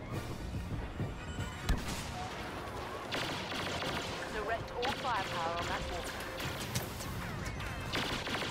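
Blaster fire aimed at an AT-AT walker during a Jakku Walker Assault battle in Star Wars Battlefront, with dense bursts of shots and explosions over a constant battle din, mixed with game voice chatter.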